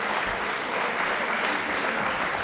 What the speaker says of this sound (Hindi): तालियां प्लीज एक बार जोरदार सर के लिए।